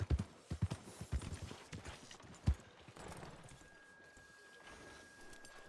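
Horse hooves in Red Dead Redemption 2 clop loudly and close at a brisk rhythm, then fade to sparse, faint steps over quiet ambient game sound.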